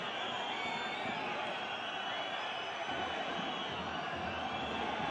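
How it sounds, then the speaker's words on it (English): A basketball arena crowd at a Basketball Champions League game between UCAM Murcia and EWE Baskets Oldenburg, a steady broad roar of many voices rising in excitement, with a commentator talking over it. "the crowd getting rather excitable"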